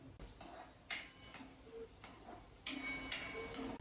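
Onions stirred with salt in a pan, a utensil scraping and clinking against the metal in several separate strokes, fairly quiet and close with no talk.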